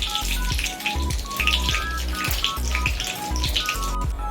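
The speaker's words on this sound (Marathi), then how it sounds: "राई तडतडली" Mustard seeds crackle and pop rapidly and irregularly, sizzling in hot oil in a kadai, steady throughout with a low background hum, no talking.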